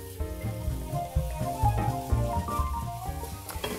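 Chorizo pieces, both cured bar chorizo and fresh chorizo, frying in a pan over raised heat, giving a steady close sizzle with faint stirring scrapes and no talk.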